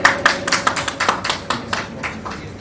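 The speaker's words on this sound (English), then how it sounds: "Ladies and gentlemen, a big round of applause, please, for Attorney JT." Sparse clapping from a small audience at a Miss World 2025 Q&A press event in honor of an attorney, a short run of distinct, fairly close hand claps that thin out toward the end.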